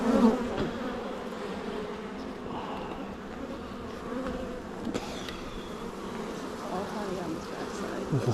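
Honey bees hum steadily at close range during a beehive inspection, a dense continuous buzz with a few brief louder passes nearby.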